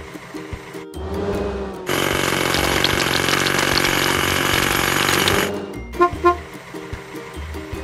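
A hydraulic hammer cracks rocks in a kids' toy car video game, pounding in a loud, steady burst for several seconds with shorter knocks before and after.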